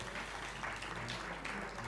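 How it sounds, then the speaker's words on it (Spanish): Final applause at a conference, soft and fairly distant, a steady patter of many hands clapping at low level with no talk over it. "Los aplausos finales."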